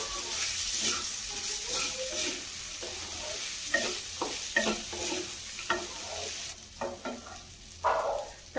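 Sago upma being stirred in a pan, a close, steady sizzle of frying with repeated scraping strokes of a spoon against the pan.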